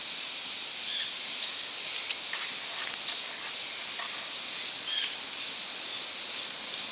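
Steady, close hiss of water boiling out of burning wet firewood, a continuous sizzling steam sound with faint crackles and pops scattered through it.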